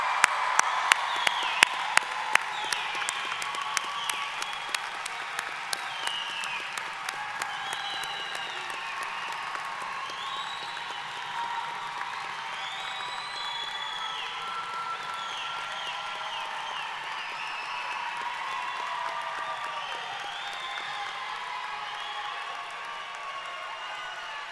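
A crowd at a graduation ceremony applauds the graduates, dense steady clapping with a few sharp claps at the start, sustained at an even level, with scattered cheers and voices mixed in.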